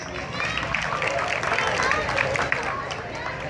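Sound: audience applause

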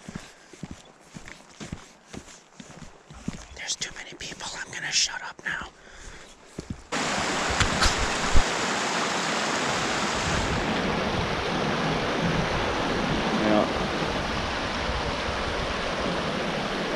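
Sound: Boulder Creek flowing water

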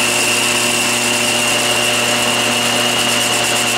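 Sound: metal lathe turning a Morse taper under power feed

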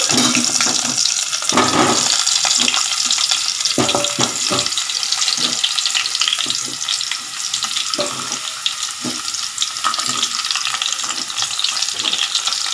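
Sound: sweets dropped into hot oil and frying

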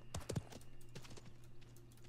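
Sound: horse hooves galloping in Realm Royale video game

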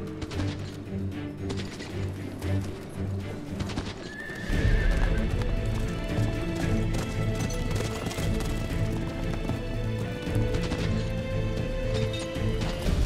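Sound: horses being ridden

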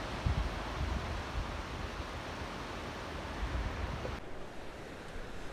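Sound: ocean waves on the shore

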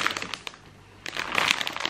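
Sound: bag of chocolates crinkling as it is handled

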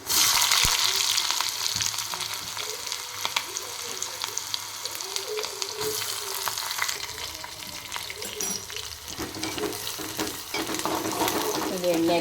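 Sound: curry leaves and onions frying in a pan

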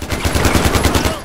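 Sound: burst-fire gunshots in the video game Far Cry 4

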